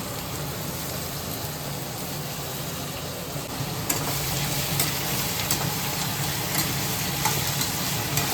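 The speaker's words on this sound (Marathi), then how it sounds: "मीठ टाकायचं थोडंसं, मग कांदा लगेच हे होतो, भाजला जातो" Chopped onion frying with a little salt in a pan for homemade chicken biryani, a dense steady sizzle with occasional soft stirring clicks, close and continuous, without speech.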